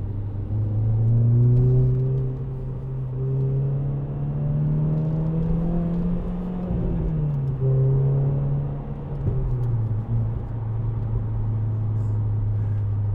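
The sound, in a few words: Renault Clio Renaultsport 3-door car driven hard, engine revving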